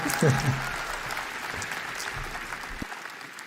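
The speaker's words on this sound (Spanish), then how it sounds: "Aplausos tímidos." Light, scattered clapping from a small audience at a tech conference keynote, soft and subdued, with a faint voice near the start before it trails off.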